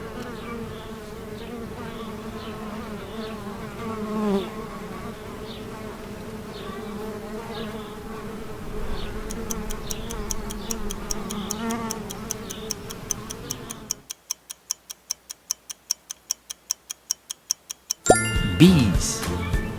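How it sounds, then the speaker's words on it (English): Bees buzzing in a spring setting, a steady insect hum running for most of the stretch, with a ticking, clock-like sound taking over near the end. "Bees."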